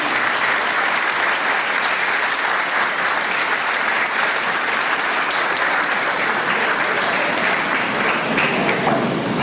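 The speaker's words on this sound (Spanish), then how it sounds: "brindémosles nuevamente un fuerte aplauso a los tres" An audience in a lecture hall claps loudly and steadily after an event on lawyers' challenges, a dense, sustained round of applause from many hands.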